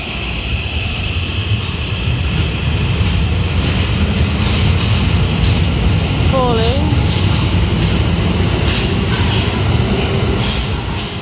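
Tokyo Metro Ginza line subway train running steadily, a loud continuous rumble and roar with a brief rising whine partway through, people talking underneath.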